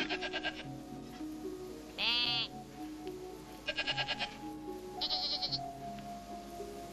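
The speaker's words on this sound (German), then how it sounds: "Die Ziegen wollten gemolken werden." Several goats bleat in short wavering bursts, one near and loud, others answering nearby at intervals over a soft background drone, with no talking.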